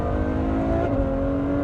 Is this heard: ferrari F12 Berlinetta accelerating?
yes